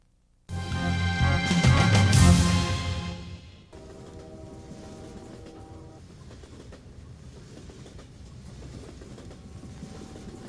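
A train in 1935 Saskatchewan rumbles along the rails, starting with a loud roaring clatter that eases into a steadier, quieter rolling drone.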